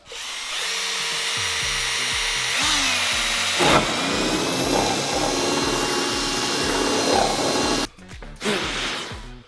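A power drill bores holes through a fiberglass car body on a turbo Toyota Sera, a steady close whine running throughout with a brief dip and restart near the end.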